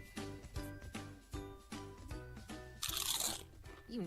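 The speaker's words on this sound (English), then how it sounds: "It's the crisp crunch of that first nacho chip." A tortilla nacho chip crunched in a few sharp bites, close and crisp, over a music bed with a burst of bright noise near the end.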